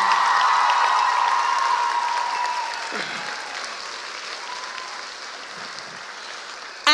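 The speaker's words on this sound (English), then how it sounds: "Big round of applause," Audience applause at a school junior musical in Dubai, a dense, sustained clapping from a theatre crowd that gradually thins and softens, with faint voices underneath.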